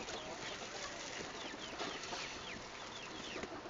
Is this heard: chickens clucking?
yes